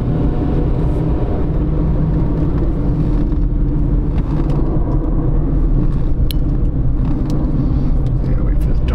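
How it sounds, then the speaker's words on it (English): A heavy truck rumbles past with deep low engine roar, loud and close, while people talk over the noise. "wait for the dump truck to go by"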